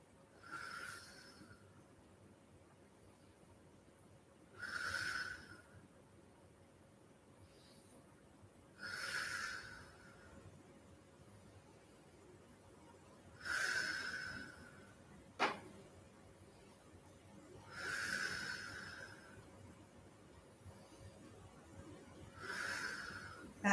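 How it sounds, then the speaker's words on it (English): Slow, deliberate breaths during an abdominal strengthening exercise, each one a soft breathy whoosh returning about every four to five seconds, close and quiet over a low hum. "breathe in, breathe out"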